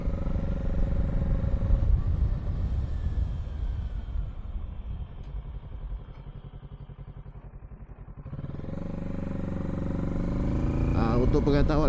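A Honda CB650R motorcycle is ridden off, its engine droning loud and close with a steady rumble that dips, then rises again as the bike accelerates away.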